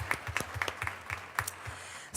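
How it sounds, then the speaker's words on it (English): A small school board meeting audience gives brief, thin applause for music teachers, with scattered individual claps at a moderate distance. "clap for them"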